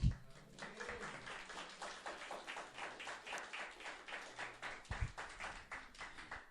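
A church congregation claps steadily in a sustained round of applause, many hands overlapping into a dense, even patter, moderately near and without talk.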